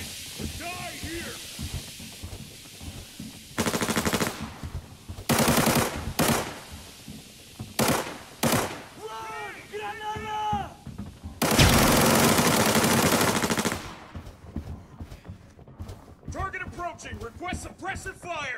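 Gunfire in the video game Northridge Rush: machine-gun bursts and scattered shots in loud, close volleys, mixed with voices talking throughout.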